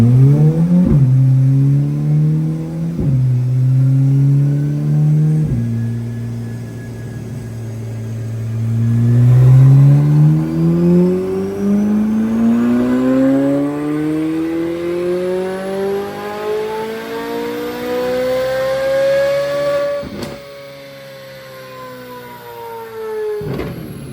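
A C8 Corvette Z06 engine revs repeatedly, pitch dropping between blips, then climbs in a long rising acceleration before backing off; loud and close.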